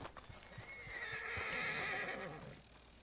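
A horse in the Red Dead Redemption 2 video game neighs in a long, loud whinny, with a few hoof clip-clops at the start and no talk over it.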